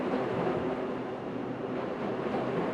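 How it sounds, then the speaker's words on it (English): In the video game Pools, a train rumbles past a station as a continuous broad roar with a faint rhythmic clatter, steady and fairly loud throughout, with no one speaking. "Sounds like trains are passing by,"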